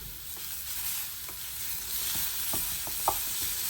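Three and a half partially frozen sausages sizzle in a small Anko electric frypan, a steady close hiss dotted with sharp crackles and a brief louder pop near the end.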